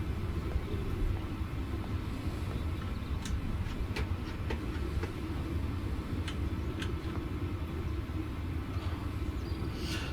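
A Class 166 diesel multiple unit passes in the Train Sim World game at Reading, a steady low rumble with faint clatter throughout, moderately loud and unbroken, with no voices.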